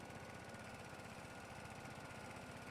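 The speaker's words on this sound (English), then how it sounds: "Oh, this tractor's struggling a little bit now." Tractor engine in Farming Simulator 22 straining under load while mowing grass, a steady, faint, rumbling drone with a fast, even knock, running continuously without talk.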